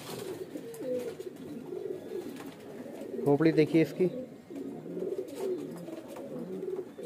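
Several pigeons coo in soft, overlapping rolling calls throughout a loft where pigeons are being shown for sale, with someone speaking briefly over them partway through.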